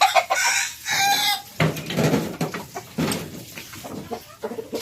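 Hens cluck and a rooster crows close by in a small backyard coop where hens are laying and brooding eggs, the calls overlapping in a busy, continuous stream.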